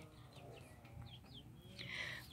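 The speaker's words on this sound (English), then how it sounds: "They're just peeping away." Baby chicks chirp and peep in short, high calls over a low farmyard hum, fairly faint, with a louder burst of chirping near the end.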